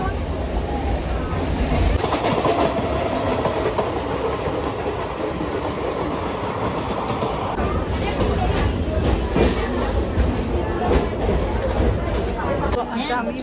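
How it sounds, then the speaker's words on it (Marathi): A passenger train in India, running from Virar toward Dahanu, rumbles along the rails with a rhythmic clickety-clack and steady carriage noise, close and continuous, while a faint babble of voices sits underneath. "विरारवरून आम्ही ट्रेन पकडली"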